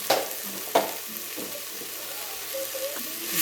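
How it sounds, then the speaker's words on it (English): Vegetables with thyme and seasonings frying in a pan as a spoon stirs them, sizzling throughout with a few sharp scrapes and clinks of the spoon against the pan, moderately close. "then I'm gonna stir that in"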